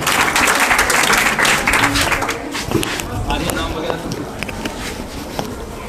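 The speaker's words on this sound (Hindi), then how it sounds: "चलो जी, तालियां बजाओ।" Students clapping in a classroom, a burst of applause that is loud at first and then thins out into scattered claps, with a voice talking over it.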